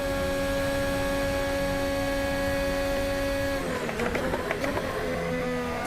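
A 2022 Formula 1 car in a racing video game at Monza, its engine a steady high-pitched whine held near and loud, then shifting into a rougher, choppier burst of revs and gear changes toward the end, with no talk.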